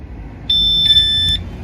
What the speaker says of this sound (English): Obviously we can touch the handle and it'll activate the alarm